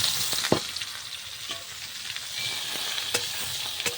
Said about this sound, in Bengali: একটু লাল লাল করে এঁচড়টা ভেজে নেব, ফ্রাই করে নেব।